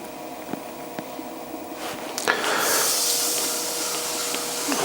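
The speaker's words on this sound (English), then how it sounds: "so I'll get the sponge on it" A sponge soaks water off a large teapot form of clay spinning on a potter's wheel, faint ticks giving way to a loud, steady wet hiss that holds to the end.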